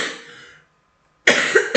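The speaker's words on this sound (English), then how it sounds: "I'm going to start the coughing now." A person coughing close by, two short harsh bursts separated by a moment of silence, with no speech.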